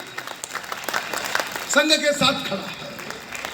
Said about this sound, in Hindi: मैं चाहता हूं हर सनातनी संघ के स्थापना के 100 वर्षों पर एक बार संघ के स्वयंसेवकों को तालियां बजाकर बधाई दे